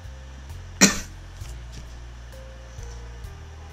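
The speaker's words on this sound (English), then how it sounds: "I will be coughing through most of the video" A single loud, close cough from a person recovering from a cold, standing out sharply against a quiet background with a low steady hum.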